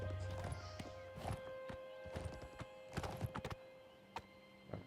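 A horse's hooves clop in The Elder Scrolls IV: Oblivion Remaster, with a few close, irregular steps and a brief whinny over a quiet background, and a voice speaks briefly.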